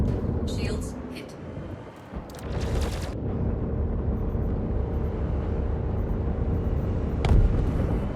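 An enemy ship blows up in Star Citizen space combat, a sudden broadband burst near the start followed by a second heavier blast around the three-second mark, then a steady low engine rumble with a sharp crack late on.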